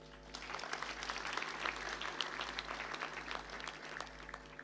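A graduation ceremony audience claps for their lecturers, a faint, distant patter of many hands in a large hall, steady and sustained under a low constant hum.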